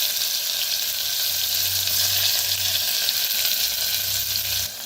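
Asafoetida and crushed green garlic paste fry in a pan over low heat with cumin, making a steady, fairly loud sizzle and hiss with a low hum underneath and no talking.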